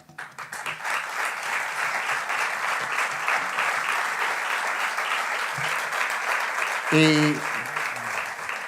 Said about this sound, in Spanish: esas palmas también las comparto con él